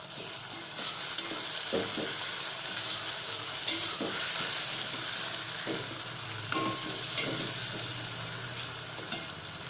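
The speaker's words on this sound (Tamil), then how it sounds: "இந்த எண்ணெயிலேயே வந்து நல்லா வறுபடணும்" Brinjal frying in oil for a village-style dried fish curry, a continuous close sizzle with repeated rhythmic stirring scrapes and clinks of a spoon against the pan, no talk.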